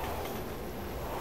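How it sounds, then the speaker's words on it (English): A train rumbling past in the video game Resident Evil 6, a steady dense low roar with faint rattling throughout, no speech. "Is that a train? That's a train."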